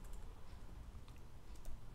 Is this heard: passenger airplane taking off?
no